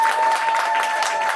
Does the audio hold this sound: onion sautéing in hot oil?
no